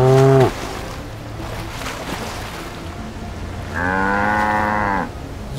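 A cartoon cow moos twice, a short low call at the start and a longer drawn-out moo later, loud and close over a faint background with no speech.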